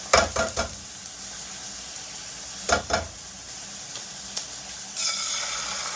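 An egg frying in a saucepan gives a steady sizzle throughout, with a few sharper crackling bursts near the start and middle and a brighter surge of frying near the end, with no voices.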